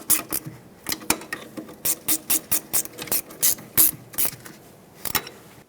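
A ratcheting 10mm wrench tightens the rear wheel cylinder bolts on a 2006-2011 Honda Civic: a steady run of crisp, close clicks in even bursts, then a short pause and a final few clicks.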